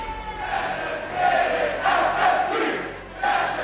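Loud, sustained roar of a large esports arena crowd cheering at the Rocket League World Championship, swelling in waves with rising peaks, with no speech over it.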